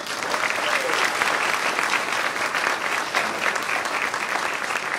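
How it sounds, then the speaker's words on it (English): A crowd applauds at a school dedication ceremony in Wilmington, steady dense clapping throughout with faint background voices mixed in. "Let's give them all a round of applause."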